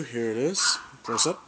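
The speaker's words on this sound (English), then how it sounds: "Sorry about the damn barking in the background." A dog barks in the background behind someone speaking close to the microphone, with a couple of bursts of barking between his words.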